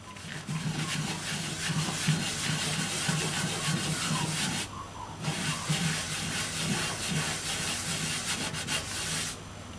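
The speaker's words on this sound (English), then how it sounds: "then I'll try just wiping it off in a circular motion" A cloth wipes hot melt cleaner off a surface in a circular motion, making close, rhythmic rubbing and scrubbing strokes. The wiping runs continuously with two brief pauses and no talk.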